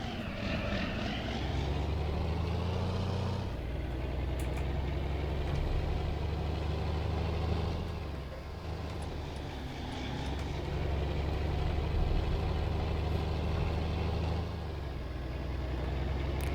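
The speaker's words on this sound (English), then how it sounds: "Yes, that is the real engine sound of this tractor." A tractor engine in the farming game Farming Simulator runs steadily, a loud, deep, continuous drone whose pitch and load shift slightly several times, with no voices.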